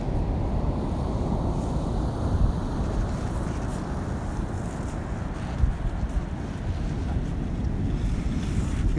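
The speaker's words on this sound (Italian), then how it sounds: "È arrivato un bell'ondone." Ocean waves breaking on an Icelandic shore at dawn, a steady loud roar of surf and rushing water with strong wind buffeting the microphone throughout.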